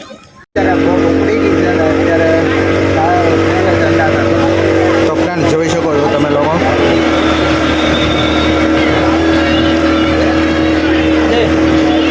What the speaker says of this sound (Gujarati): આ છે અમારી બોટ આની અંદર બેસીને પછી હમણાં આખો તળાવનો રાઉન્ડ મળવું છે